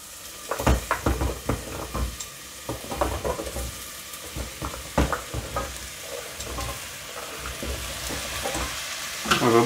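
Pumpkin and lightly fried onion sizzle in a pot and are stirred with a utensil, producing scraping clinks over a steady frying hiss, close and moderately loud, with no talking.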